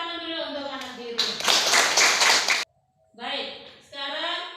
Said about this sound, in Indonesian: Tepuk tangan dulu untuk anak biru